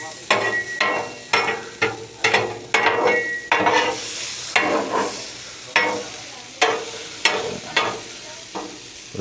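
Diced potatoes frying and being stirred in a heated pan, loud rhythmic scraping strokes over a continuous sizzle, close and repeated about a dozen times.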